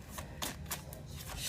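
A deck of tarot cards being shuffled by hand during a reading, a short run of crisp riffling bursts in quick succession, close and fairly quiet, with no voices.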